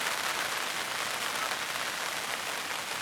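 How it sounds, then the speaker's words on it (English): Rain falls steadily in a quiet rural spot, a soft, even hiss of drops on surfaces that stays constant throughout, with no voices or other sounds over it. "I'm just sitting here while it rains"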